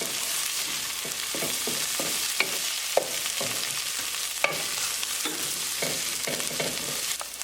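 Spices frying in oil in a pan for a potato and pea coconut milk curry, a steady close sizzle broken by repeated scraping stirs and a few sharp clicks.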